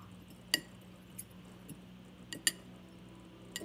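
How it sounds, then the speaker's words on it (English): Spoon clinking against a glass pitcher while sugar is stirred into homemade lemonade, a few sparse, faint ringing taps spaced irregularly over a quiet background. "Add another pack of sugar and then stir everything in."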